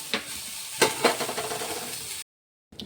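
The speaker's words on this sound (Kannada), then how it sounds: "ನೋಡ್ರಿ ಫ್ರೆಂಡ್ಸ್ ಈಗ ಟೊಮೆಟೊ ಚೆನ್ನಾಗಿ ಫ್ರೈ ಆಗೈತೆ ರೀ" Tomatoes frying in a pan for a peanut chutney, a soft sizzle broken by a few sharp stirring clatters, then brief silence before one short knock.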